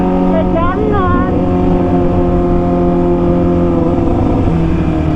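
Kawasaki ZX25R motorcycle with a racing exhaust revving hard, a loud, close, sustained high-pitched engine scream with rising pitch sweeps early on, holding steady to the end.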